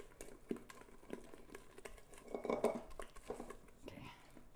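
Marble butter cake batter folded in a bowl, a utensil clinking and scraping against the bowl in irregular soft strokes, faint and close, with no voices.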